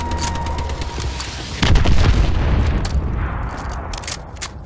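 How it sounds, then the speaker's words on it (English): Missile strikes in Call of Duty Advanced Warfare multiplayer, a heavy booming explosion with deep rumble amid scattered gunshots and battle noise, loud and close. "Friendly missile strikes incoming."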